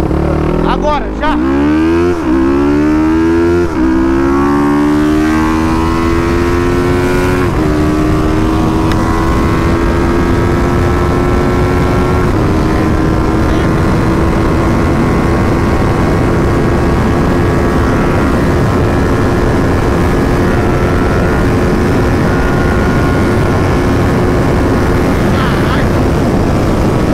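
A Riva 500R motorcycle with a two-cylinder Twister engine runs flat out to top speed, its loud, close engine note climbing rapidly in pitch through the gears and then holding a high, sustained drone under rushing wind.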